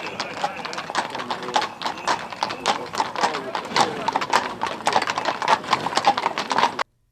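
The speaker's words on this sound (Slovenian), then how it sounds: "Konjeniki so se s hipodroma odpravili proti središču Šentjerneja in naprej do Dolenje Stare" Horses' hooves clip-clop steadily on a road as riders leave a racetrack for a blessing of horses on St. Stephen's Day. Many hoofbeats overlap in a busy, fairly close rhythm, with voices and birds faintly in the background.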